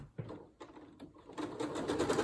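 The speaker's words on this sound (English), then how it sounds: "first I'll go along and sew all of my pairs together" Sewing machine stitching fabric pairs together for a quilt border, a soft rapid mechanical chatter starting after a few faint handling sounds, fairly quiet and close.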